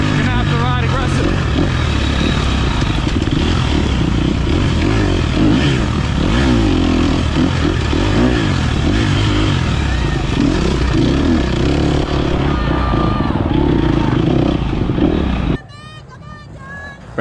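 Dirt bike engine held hard on the throttle during an off-road race, a loud, continuous, buzzy roar with shifting pitch, close up, cutting off sharply near the end; a rider's voice is heard over it.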